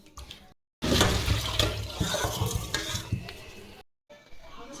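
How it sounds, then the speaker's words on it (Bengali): Raw chicken pieces being washed by hand in hot water in a home kitchen, a steady splashing, sloshing wash close by with brief pauses at the start and end. "গরম জলে চিকেনগুলো ভালো করে ধুয়ে নিচ্ছি।"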